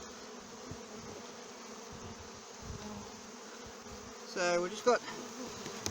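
Honey bees buzzing around a frame with leftover honey, a steady close hum of many insects with a louder bee passing near, and a voice speaking briefly toward the end.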